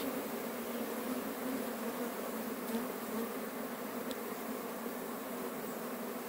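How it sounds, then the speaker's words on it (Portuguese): Bees buzzing around a hive being rescued from a wooden stump, a faint, steady swarm hum with occasional louder passes close by. "Muita abelha embaixo lá também, amor."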